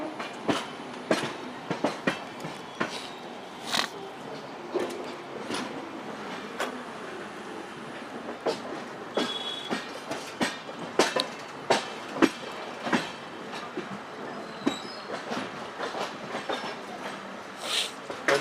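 Visakhapatnam LTT Express running at speed from Secunderabad toward Mumbai LTT via Wadi and Pune, with steady rolling rail noise and a stream of sharp, irregular clickety-clack wheel beats over joints throughout.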